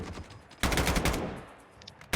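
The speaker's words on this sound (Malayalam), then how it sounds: "അവനൊഴികെ അവന്റെ ചുറ്റും വെടിപോയി." Rapid automatic gunfire rattles in dense bursts during a Call of Duty match, with a loud volley following a quieter stretch and a final sharp shot at the end.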